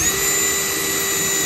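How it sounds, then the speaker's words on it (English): Power drill boring through a part during PRC kart assembly, a steady, loud whine with a constant high tone running without a break, no talk over it. "Now we're just barely drilled through"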